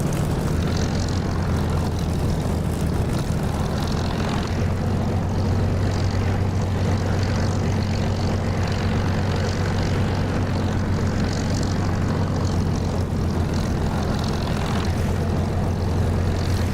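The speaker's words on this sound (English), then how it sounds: "Right, 4908 for takeoff." Propeller aircraft engine in the DCS flight simulator game holding a loud, constant droning roar with a steady low hum throughout the takeoff run, with no talk.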